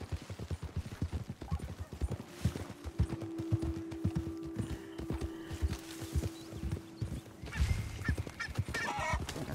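Geese honk among steady clip-clop of horse hooves in the video game Red Dead Redemption 2, the calls repeating in short bursts over a busy, continuous game soundscape with no speech.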